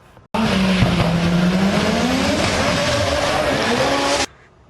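An Audi A4 B5 engine starts and runs loud and close, its pitch sweeping down then rising steadily for about four seconds before stopping abruptly.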